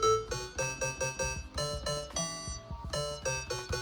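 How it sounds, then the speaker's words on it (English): A synthesized NES-style 8-bit video game pluck plays a quick, bouncy sequence of bright, buzzy repeated notes with a steady rhythm, close and clear with no voices. "So like I've made a NES type game pluck."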